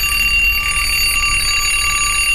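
An alarm clock rings loudly and steadily, giving off a continuous high electronic tone with no pauses for the whole moment.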